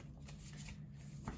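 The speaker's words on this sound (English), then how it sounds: "I even started shuffling before I started recording." Tarot cards shuffled by hand make a soft, continuous riffling and sliding, quiet and close, with a slight flick near the end.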